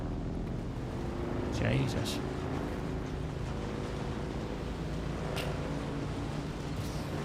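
Strong desert wind in the video game Dune Awakening rushes steadily with a low, broad roar, while a player briefly speaks over it.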